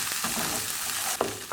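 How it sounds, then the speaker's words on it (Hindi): Peas for samosa filling are stirred in a frying pan, giving a steady close sizzle with a couple of scraping spoon strokes near the end. "अब इसमें मटर डाल लेंगे। अच्छे से मिक्स करेंगे।"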